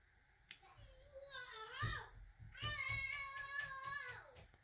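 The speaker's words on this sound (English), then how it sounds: "if you hear screaming in the background, my boys are happily playing with their toys" Young boys squealing and shrieking in high, wavering bursts while playing with toys in a nearby room, loud and continuous through most of the moment with brief gaps between cries.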